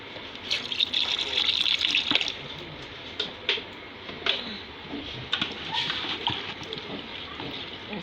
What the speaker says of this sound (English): Then I add my little water.